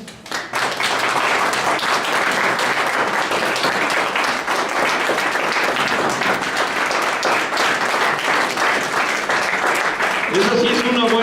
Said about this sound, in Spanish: ponte de pie y dale una ofrenda de palmas